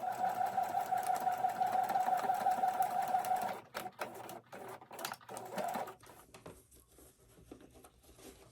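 A sewing machine stitches a quilt block with a steady, fast, close mechanical whir that stops partway through, followed by a few short stitching bursts and handling noises.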